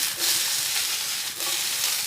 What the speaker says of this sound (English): It's really more like pan frying and really sautéing